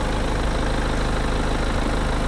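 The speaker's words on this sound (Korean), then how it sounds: "엔진 소리 일정합니다" A BMW 520d xDrive diesel engine idles with a steady, even rumble, close and continuous without changes in pace.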